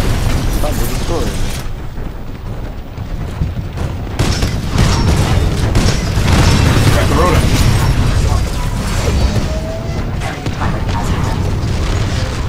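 A Titan drops and explodes in the shooter game Titanfall 2, giving a loud rumbling boom and sustained crashing, mechanical roar, with a player speaking over the noise.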